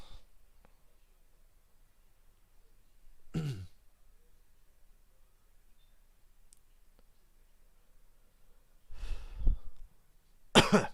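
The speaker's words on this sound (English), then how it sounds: "That little cough still ain't gone away entirely for me." Two separate coughs, close and fairly loud, the second a short double burst near the end, with quiet stretches between them.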